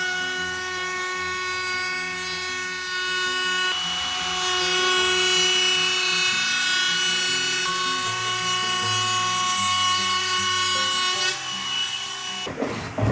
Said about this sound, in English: I round over the top edge corner of the countertop.